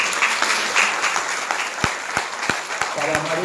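Audience applause at a school cooperative congress in Buenos Aires, dense steady clapping from a large crowd with a few sharp individual claps standing out near the end.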